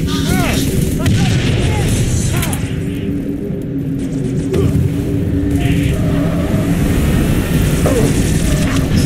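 A grenade blast amid loud, continuous combat in a shooter game on a coastal highway map, with dense booms and rumbling gunfire filling the mix while players talk over it.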